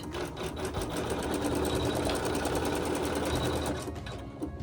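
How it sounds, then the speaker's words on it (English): An embroidery sewing machine stitches a tack-down line, its needle running in a fast, even, close mechanical chatter that carries steadily before easing off near the end. "we'll just let it sew that tack down stitch"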